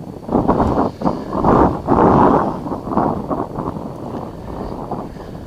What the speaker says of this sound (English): Might be windy. It is windy out here.